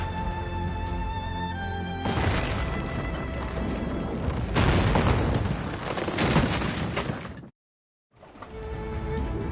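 Naval cannon fire from a ship battle in Assassin's Creed Rogue, a dense run of heavy booms and crashing blasts rolling over several seconds, with a brief sudden dropout near the end before the battle din resumes.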